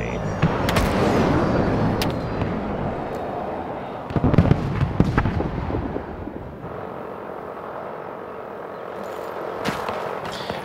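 Rapid bursts of gunfire in a hardcore Battlefield 2042 match on Caspian Border, dense and crackling, with several louder shots clustered around the middle over a steady rumbling battlefield backdrop; players talk over it.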